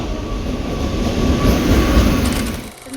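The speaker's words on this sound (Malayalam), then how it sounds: "കേരള എക്സ്പ്രസ് നമ്മുടെ ട്രെയിൻ വരുന്നുണ്ട്." The 12626 Kerala Express train rumbles loudly and steadily as it arrives at a station platform, with a continuous rolling clatter of rail cars that eases slightly near the end.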